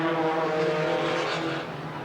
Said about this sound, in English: 3 Pintos and a Datsun down the backstretch